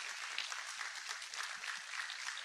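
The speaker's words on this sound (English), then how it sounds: "Please give all of Team Mitchell a huge round of applause." Faint, distant applause from an audience at a community talk, a thin, even patter of clapping hands running the whole time with no speech over it.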